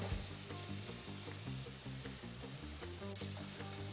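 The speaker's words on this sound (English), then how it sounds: "My baby over there cooking the sausage." Chicken sausage browning in a pan gives a steady, close sizzle and frying hiss that runs the whole time, with music playing over it and no talk.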